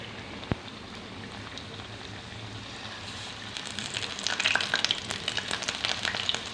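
Chicken leg pieces hit hot oil, a quiet steady hiss swelling after a few seconds into a louder, busier crackle and spatter of frying, close by with no talking.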